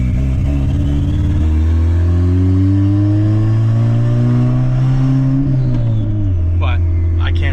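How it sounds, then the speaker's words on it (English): A turbocharged Honda Del Sol with a short exhaust accelerates hard on an interstate highway. The engine note climbs steadily, loud and close, with a faint turbo whine in it. A voice talks over the engine throughout. "I don't know if you can hear the turbo whining with as short as the exhaust is, but I can hear it."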